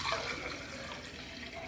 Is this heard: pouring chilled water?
yes